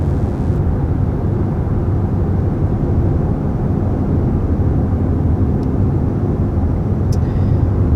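Steady low road and wind rumble inside a 2021 Hyundai Sonata cruising at 55 mph, a constant broadband drone with no talking.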